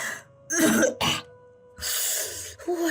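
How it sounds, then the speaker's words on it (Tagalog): Several harsh coughs and throat-clearing bursts, close and loud, separated by short pauses. "simpleng ubo lang o kati ng lalamunan"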